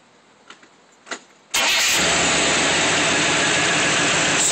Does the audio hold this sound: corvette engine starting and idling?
yes